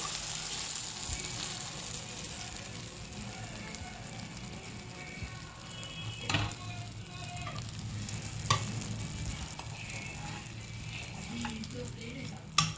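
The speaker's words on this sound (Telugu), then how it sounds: "దాంట్లో ఈ పోపు ఇలాగ వేసేసుకోవాలండి మొత్తం" Hot oil tempering hisses and sizzles softly as it is poured into red chilli pickle and stirred, a quiet, close crackle with a few brief louder pops.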